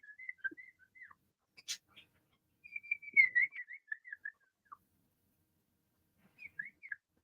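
A person whistles bird-like chirps and trills to pet cockatiels, in short, scattered, warbling phrases, soft and fairly close in a quiet room, the voice imitating birdsong.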